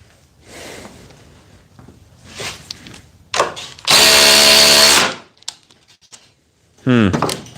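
A Dewalt oscillating multi tool cuts for about a second in one loud, steady buzzing burst, framed by short bursts of nearby talk and another brief harsh cutting sound near the end.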